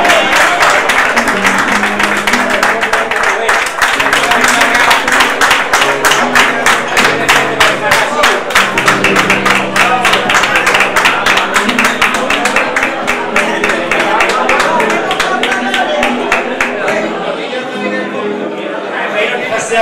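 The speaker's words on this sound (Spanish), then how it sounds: "Un aplauso a los portadores ahí." A crowd at a food fair in San Fernando applauds the float bearers, loud sustained clapping mixed with chatter and cheering that tapers slightly toward the end.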